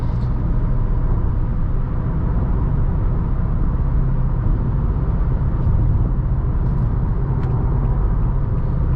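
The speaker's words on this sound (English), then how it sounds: "I put my foot into it a little bit and the CVT delivers a good passing gear" A 2021 Nissan Altima SR AWD with a CVT accelerating to pass on the highway, a steady, loud engine and road roar holding constant throughout with no voices.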